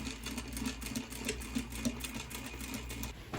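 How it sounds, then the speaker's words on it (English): A sewing machine topstitching a Regency-style apron runs steadily nearby, a continuous whirring hum carrying a rapid, even pulse of stitches throughout, with no talking. "So bringing this under the machine, I'm going to replace that top stitching"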